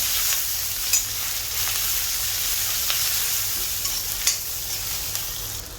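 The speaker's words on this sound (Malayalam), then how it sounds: "ഒരു ടേബിൾ സ്പൂണിൻ്റെ അടുത്ത് ഇഞ്ചി കട്ട് ചെയ്തത് നല്ലപോലെ വഴറ്റി കൊടുക്കാം." Chopped ginger, about a tablespoon, sautéing in a pan for a Kerala-style crab roast: a steady close sizzle and fry hiss runs throughout, with a few sharp spatula scrapes and stirring knocks, and nobody talks.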